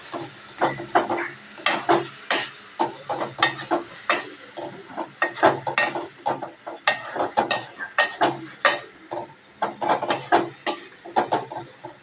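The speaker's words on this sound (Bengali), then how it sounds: "ফাইনালি ছড়িয়ে দিয়েছি চিনি ছড়ানো হয়ে গেছে এটাকে ভালো করে নাড়াচাড়া করে দেবো" Sugar being stirred in a pan, a steady run of scraping, gritty strokes with short rhythmic bursts repeating close by, with no talking.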